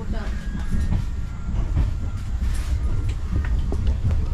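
The 12343 Darjeeling Mail passenger train is heard from inside a carriage as it runs: a loud, continuous low rumble with rhythmic wheel clatter and rattling.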